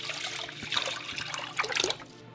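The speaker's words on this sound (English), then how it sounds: "Add back the water now." Water is poured back into a cooking pot holding a cup each of quinoa and rice, a steady splashing and trickling stream lasting a couple of seconds with no talk.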